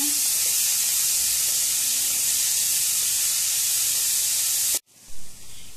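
Onion, tomato, garlic, cashews and ginger fry over medium flame in a loud, steady, close sizzle that cuts off abruptly near the end.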